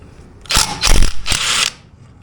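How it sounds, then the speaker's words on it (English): A bolt comes off a Honda SL70 motorcycle, three close, sharp metallic ratcheting bursts in quick succession over about a second, loud and near. "So it seems like if I pull that bolt off right there, we can get the airbox and the carb off pretty easily."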